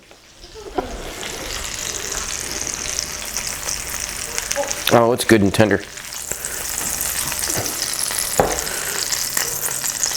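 Pork sizzles and spits loudly in a hot pan before going into a Dutch oven, a steady frying hiss with a burst of clatter midway and a brief spoken comment.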